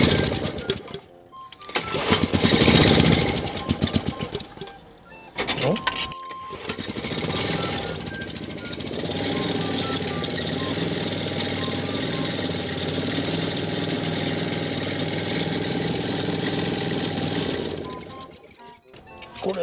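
A small farm engine used for fertilizing garlic and onion beds sputters in short bursts between gaps, then catches and runs with a steady rattling drone before cutting out near the end.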